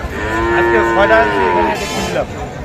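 Sahiwal bulls mooing at a cattle market, a long loud drawn-out low moo with a rising and falling tone that carries through nearly the whole stretch over a busy background.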